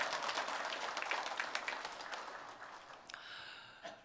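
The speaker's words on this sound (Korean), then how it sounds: "우리 찬양 받으신 하나님께 영광의 박수 올립시다." A church congregation at a Sunday worship service gives quiet, distant applause that gradually thins out, followed by faint tonal music near the end.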